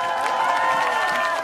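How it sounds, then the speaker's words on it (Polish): Audience applause and cheering at a dance marathon event, a continuous wash of clapping and crowd noise held at steady loudness, with a faint musical tone running underneath. "Wielkie brawa!"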